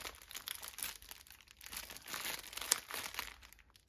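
Plastic bags holding round diamond painting beads crinkle and rustle, quiet and close, in irregular bursts of crackling handling noise.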